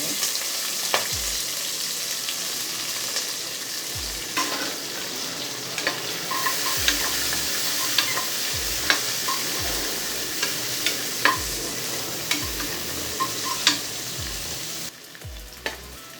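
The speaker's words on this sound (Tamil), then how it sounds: "வெங்காயம் கொஞ்சம் வதங்கட்டும்." Onions with green chillies sizzle and fry steadily in a pan for coconut milk peas pulao, a continuous bright crackle punctuated by regular scraping stirs of a utensil every second or two, with no talk.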